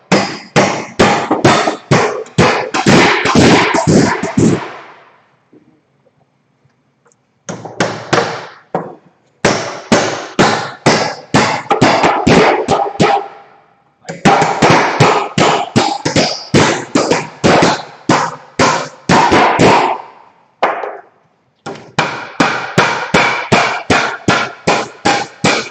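Rapid hammer blows drive nails into a ceiling joist and rafter. Loud, close strikes come in fast bursts of many hits, separated by short silent pauses.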